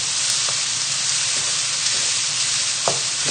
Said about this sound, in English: just keep moving the onions around the pan just to check that nothing's burning